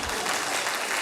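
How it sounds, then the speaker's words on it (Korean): A church congregation at a Sunday afternoon service in Daegu breaks into dense, steady applause, close and loud from start to finish. "박수."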